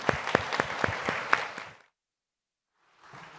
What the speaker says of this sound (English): Can I have a big clap for these guys